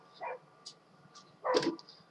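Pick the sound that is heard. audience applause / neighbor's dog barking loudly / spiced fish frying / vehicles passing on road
neighbor's dog barking loudly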